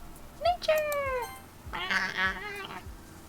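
A cat meows in two quick, high, falling calls, then gives a longer, wavering, drawn-out meow, fairly close over a low background hum with faint thumps.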